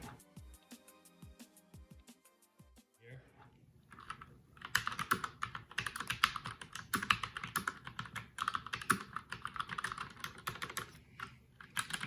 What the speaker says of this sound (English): I'm just gonna type a little bit for you guys and get a feel for the sound here.